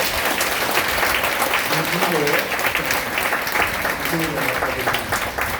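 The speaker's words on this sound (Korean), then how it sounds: "늘 수고하고 애써주시는 우리 찬양단 여러분들께 큰 박수 한번 부탁드립니다" A congregation at a Korean church's Friday night worship service gives warm, continuous applause for the praise team, many hands clapping nearby with a voice faintly audible under the clapping.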